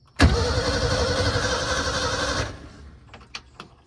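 A Ford Falcon undergoing restoration cranks and fires, its engine catching with a sharp burst and then running at a rough, steady roar for about two seconds before cutting out, leaving faint clicks and rattles.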